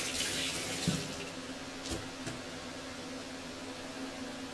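Mushrooms and celery are rinsed under a running kitchen tap, a steady close hiss of flowing water with a few splashy bumps and brief handling clatter.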